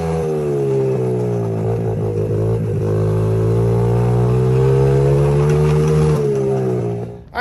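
A Honda CRF70 dirt bike engine drones steadily and close through a lap, its revs climbing and easing in long, even sweeps before cutting off abruptly near the end, with no talk over it.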